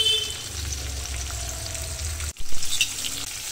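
Tomato pieces frying in a pan for bisi bele bath, a close, even sizzle that briefly drops out, then returns with a few louder crackling bursts, with no one speaking.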